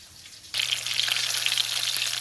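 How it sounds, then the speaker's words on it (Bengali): Fish head and tail pieces dropped into hot oil for light frying, a quiet pan suddenly bursting into a bright, steady crackling sizzle close by. "এগুলো বেশি ভাজা অল্প অল্প ভাজা করলাম"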